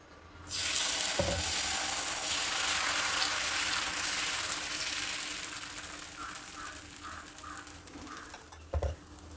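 Adai dosa batter made from ground lentils and rice sizzles steadily on a hot pan, a continuous close frying hiss with faint clinks near the end and no talking.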